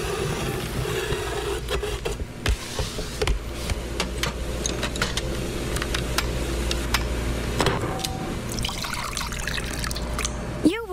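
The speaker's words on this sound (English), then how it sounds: "You wouldn't pour OJ this way. And you don't have to pour paint this way either." Dutch Boy Platinum Plus paint poured in a steady trickling stream, close and continuous for about eleven seconds, with brief irregular splashes and faint voice-like sounds in the background.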